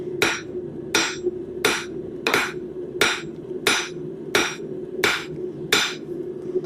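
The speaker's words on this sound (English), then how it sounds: "as we turn to all 4 sides, we're going to be straightening out that bar with every hammer blow" Heavy hammer blows on a steel bar being forged for a corkscrew, nine sharp metallic strikes in a steady rhythm about every 0.7 seconds, close and loud with a ringing anvil tone between hits.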